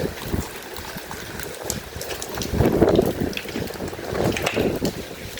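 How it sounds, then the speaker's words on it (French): Gusty wind blows hard across the microphone at a swimming pool, rising and falling in strong bursts with no talking. "Oh, le vent qu'il y a ici."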